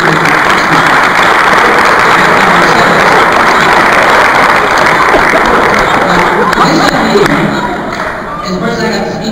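A crowd at a hypnosis demonstration breaks into loud, dense applause and cheering that tapers off near the end, with some voices mixed in.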